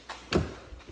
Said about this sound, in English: these are soft closed doors